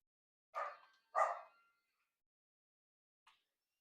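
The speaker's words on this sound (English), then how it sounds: "Sorry about the dog, if you heard the dog there." A dog barks twice in quick succession, fairly loud and alone, followed by a faint short yip a couple of seconds later in an otherwise quiet room.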